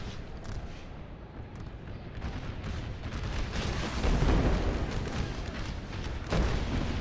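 Artillery booms across a Napoleon Total War battlefield at Culp's Hill, Gettysburg, in an American Civil War setting: deep, rumbling blasts roll over a steady battle din, growing louder midway with a sharp thump near the end.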